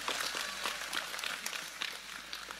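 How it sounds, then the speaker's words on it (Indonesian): A crowd at an Indonesian religious talk claps loudly and continuously, close and dense, with no speech over the clapping. "tepuk sing banter gak usah sungkan"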